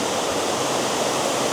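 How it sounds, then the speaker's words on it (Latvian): A gravity-fed fountain at Villa d'Este in Tivoli gives off a dense, steady rush of falling water, loud and close with no other sounds. "Šī lūdzu mums ir Tivolī strūklaka."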